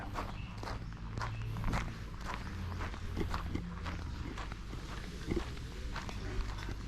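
Footsteps walking out of a campsite bathroom at a streamside campground in Suan Phueng, Ratchaburi, a steady run of close, fairly loud steps over a low background hum.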